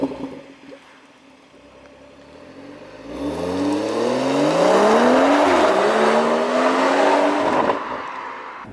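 A tuned BMW M140i engine revs up and climbs steadily in pitch as it accelerates, loud and close, after a quieter idle at the start.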